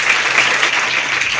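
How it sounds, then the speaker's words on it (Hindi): Strong applause from an audience at a school event honouring women teachers and girls, a dense, even clatter of many hands clapping close and loud for a brief burst. "जोरदार तालियां"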